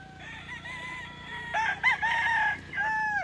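A gamefowl rooster of McLean hatch on a farm in Bacolod crows loudly and close, drawn-out calls with rising and falling pitch over a faint background hum.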